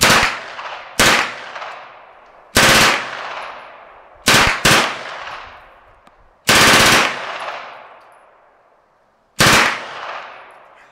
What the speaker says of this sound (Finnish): Sä voit kokeilla nyt muutaman lyhyen, niin sä huomaat, että taulun alaosaan mä ampuisin siitä.